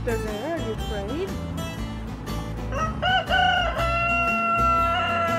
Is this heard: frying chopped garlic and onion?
no